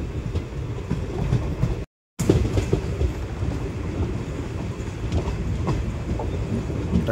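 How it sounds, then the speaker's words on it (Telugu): The Guntur Aurangabad Express pulls out of a platform with a steady rumble and clatter of rolling wagons, close and continuous, broken by a brief dropout. "17253 Guntur Aurangabad Express is ready to leave from platform number 1."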